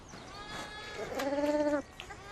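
Sheep and lambs on the grassy South Downs give a clear, nearby bleat, one wavering call lasting about half a second over soft outdoor background.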